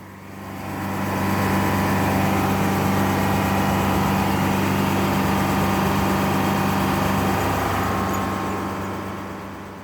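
A Detroit Diesel 4-71 'Screaming Jimmy' engine powering a Frick sawmill runs for the first time in two years, a loud, steady idle with a continuous low hum that fades in and tails off slightly at the end.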